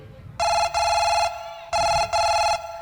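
A telephone rings during a phone call: two pairs of bright electronic trill bursts separated by a short pause, loud and close, with faint background murmur beneath.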